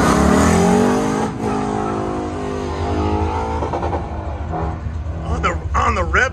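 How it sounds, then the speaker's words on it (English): A car engine revving hard and bouncing off the rev limiter during a hot rod event at a racing school, a loud near roar with stuttering pulses, with a voice speaking over it near the end. "On the rev limiter."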